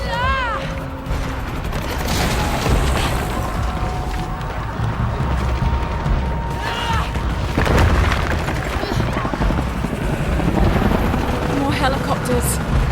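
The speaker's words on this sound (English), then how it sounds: "More helicopters." Helicopters in the Shadow of the Tomb Raider game on PS5, with loud rotor thumping and booming blasts under a dense combat mix while characters speak over radio chatter.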